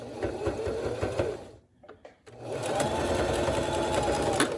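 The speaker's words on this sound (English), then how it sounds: "Go up and down, straight stitch." A sewing machine straight-stitches fabric for fringe, a rapid close mechanical whirring chatter that stops briefly in the middle with a few clicks, then resumes steadily.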